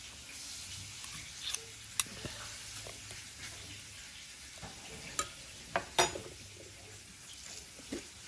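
Food frying in very hot oil gives a soft, constant sizzle, broken by a few sharp pops and spits.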